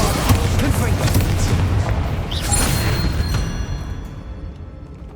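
Explosive Bombarda and Confringo spell blasts in the Hogwarts Legacy video game, heavy booming rumbles layered over a dense, continuous game soundscape that tapers slightly toward the end.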